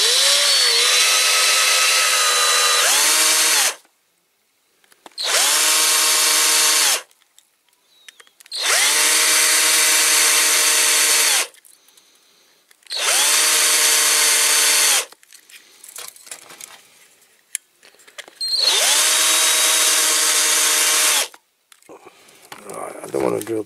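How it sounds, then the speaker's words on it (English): Power drill boring out rivets on a Corgi Toys Bentley Continental Sports Saloon die-cast model, five loud whining bursts of a few seconds each separated by pauses, with someone talking briefly between them. "I don't need to drill with a small drill first"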